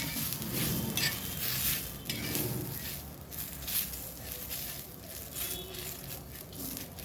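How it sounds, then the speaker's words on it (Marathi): Dry masala roasting in a pan for a fish vatan is stirred steadily, giving a low, grainy sizzle with soft scraping and occasional clinks of the spoon against the pan. "आता हे थोडा आपला मसाला भाजून झालेला आहे."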